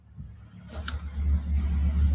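A car engine rumbles low and grows louder as it approaches, with a brief brighter burst partway through.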